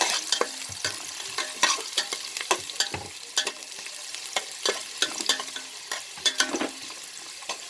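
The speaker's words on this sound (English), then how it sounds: "I'll saute my onions for a while." Onions sautéing in a pan sizzle steadily under frequent, uneven spatula scrapes and taps against the pan, close by and moderately loud.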